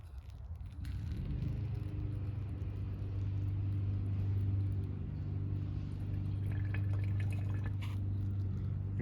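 Liquid from battery-derived manganese chloride work, poured through a filter after stirring, dripping and trickling steadily for the whole stretch under a constant low rumble, fairly quiet with no talk.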